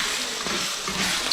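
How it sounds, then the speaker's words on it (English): Ground beef frying in its own fat in a pan, a steady close hiss and sizzle throughout. "We're just frying the meat and all the good stuff in the fat from the meat."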